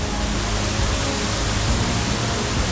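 Winter waterfall on a small creek in the Oregon backcountry, a steady, loud broadband rush of falling water that holds unbroken throughout with no voices.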